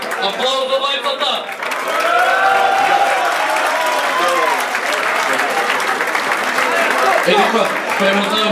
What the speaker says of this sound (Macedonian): Аплауз за мајката!